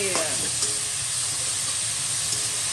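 Capsicum sizzles in a pan for pav bhaji, a steady close hiss of frying with a brief clink or stir near the start, no talk.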